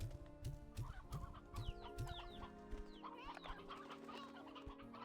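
Chickens in the video game Slime Rancher 2 cluck busily, a dense flock of overlapping clucks and squawks repeating close by over a soft musical background.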